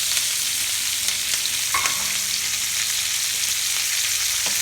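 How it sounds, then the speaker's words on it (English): Onions frying in bacon grease in a pan, a loud continuous hiss and crackle of sizzling fat with no pauses, close and steady throughout. "So onions into the bacon grease."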